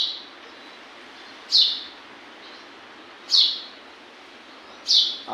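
Sparrows calling outdoors: three short, bright chirps spaced roughly two seconds apart, each rising clearly above a quiet, steady background hush.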